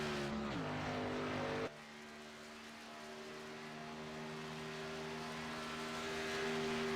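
A NASCAR stock car in a racing video game rolls out for a qualifying run at Pocono, its engine droning steadily with a sudden drop in pitch, then a long, slowly rising tone as it builds speed.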